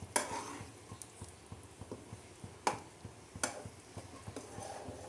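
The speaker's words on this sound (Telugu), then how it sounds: "బాగా కలిపేసుకుందాము" A spoon stirs paneer gravy in a pan with quiet, rhythmic scraping taps and a few sharper clinks against the metal, faint and close, with no voices.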